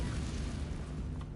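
A brief, low rumbling boom from a Confringo spell explosion in Hogwarts Legacy, a dense muffled blast that fills the short moment at fairly low volume with no voices.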